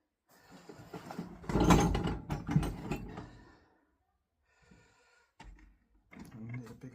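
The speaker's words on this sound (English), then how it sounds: "Torque wrench." A torque wrench ratchets while tightening a seat fitting on a Royal Enfield Shotgun 650 motorcycle, giving close, gritty mechanical clicking for a few seconds, then a pause and more short bursts of clicking.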